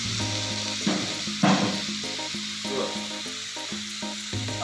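Spiced food sizzles steadily in a hot pan on a full-flame burner, a continuous close frying hiss with a couple of brief louder bursts and clatters.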